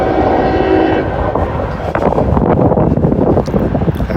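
A freight train led by a Conrail heritage-unit locomotive rumbles past close by, its horn sounding at the start, followed by loud clattering wheels and wind buffeting the microphone.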